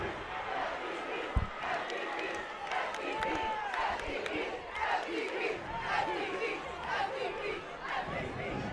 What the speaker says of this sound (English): As a inappropriate chant rolls through this Bears crowd